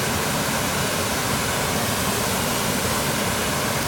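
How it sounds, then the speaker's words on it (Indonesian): Near a campsite, a small waterfall rushes loudly and steadily, a dense unbroken roar of flowing water with no pauses. "Nah, di sini ada air terjun mini"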